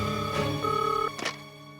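An office telephone ringing with a bright, electronic trill in two quick bursts, close and clear, with no talking.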